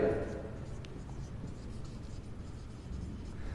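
A pen scratches steadily across paper while working out a Class 10 maths solution, squaring both sides of an equation. The writing is close and continuous, and a voice talks over it.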